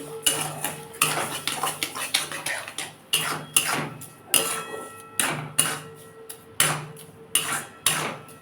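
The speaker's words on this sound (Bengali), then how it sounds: "এর মধ্যে আমি চিনি দিয়ে দেবো এই বাটির হাফ বাটি চিনি দিয়ে দেবো দিয়ে এটাকে আমি ভালো করে এবার নাড়ব" A spoon stirs sugar into a raw mango jelly mixture in a metal bowl, making rhythmic scraping clinks about twice a second, close and clear, with no talk.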